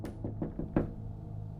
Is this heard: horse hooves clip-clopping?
no